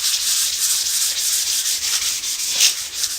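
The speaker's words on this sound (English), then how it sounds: "if I do it wet, and I just feel like I can get a better sanding on it" Wet sanding of a skateboard deck by hand with 360-grit wet/dry sandpaper, a close, steady, hissing rub in continuous back-and-forth strokes with no talk.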